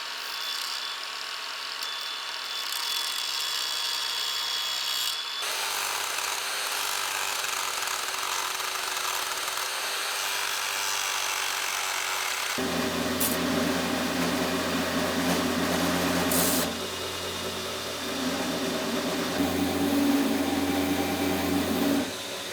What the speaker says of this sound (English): I simply begin to grind away the material using my angle grinder and my belt grinder